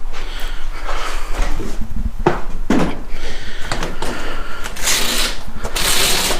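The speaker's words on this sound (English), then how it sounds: "And then you can slowly roll up the cover." Gator SRX roll-up bed cover on a GMC Sierra AT4 being rolled up by hand, a close run of soft rustling, rattling and clicking mechanical noises with a few sharper knocks.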